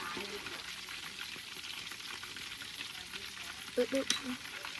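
Fish fries in oil at an evening home meal, a steady, close crackling hiss that runs throughout, with a brief voice and a few clatters near the end.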